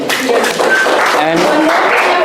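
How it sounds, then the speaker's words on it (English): An audience at a faculty development program session on AI-infused design thinking gives a round of applause. Sustained, close clapping runs throughout, with voices mixed in. "I think it deserves this round of applause again."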